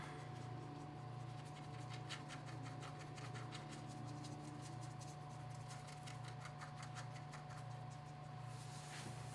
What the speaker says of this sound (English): Your brush should be making noises. You should hear it scratchy.